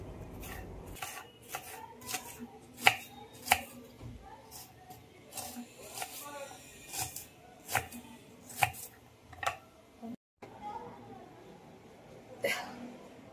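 Onions are chopped on a board, a string of irregular sharp knife taps, some louder and nearer, spaced apart with soft scraping between.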